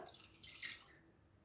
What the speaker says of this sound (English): First thing we put in is our 125 millilitres of water.